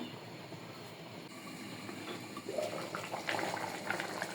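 Moong dal with a katla fish head simmering in a pot on low heat, a soft steady bubbling with faint clinks and a slightly busier stretch of gurgling toward the end.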